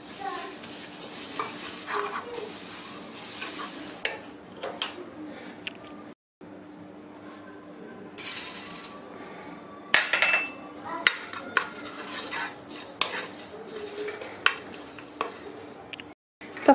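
Sesame seeds toasting in a pressure cooker pot, stirred with a utensil: continuous scraping and soft sizzle, broken by sharp clinks of the utensil against the metal pot, close and moderate in level.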